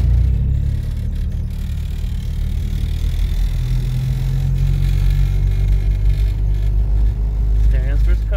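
Rear-wheel-drive Mitsubishi Starion with a swapped K-series engine, driving with a steady loud engine drone and rising revs, heard from inside the car as people talk over it.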